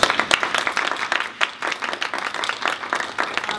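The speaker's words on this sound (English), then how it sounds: "can we give them all a round of applause?" A crowd applauds steadily, dense clapping filling the room at a fairly loud, even level throughout.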